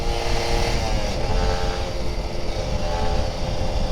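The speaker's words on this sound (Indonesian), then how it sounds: "Waktunya ngegas di puncak." A Kawasaki Ninja RR 150 motorcycle accelerates on a quiet hilltop road, its engine buzzing loud and steady at high revs with strong wind rush close to the rider.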